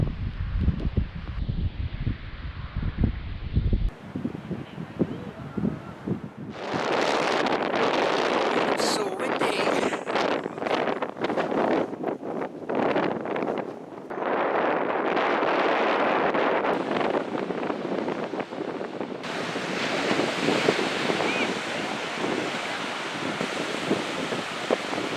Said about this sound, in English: This is one of Valencia's big attractions, its beach.